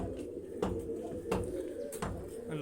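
Pigeons coo repeatedly at a loft where they are being fed grain and water, a low, throaty burbling that rises in a few swells, close and fairly loud, with faint sharper sounds in between.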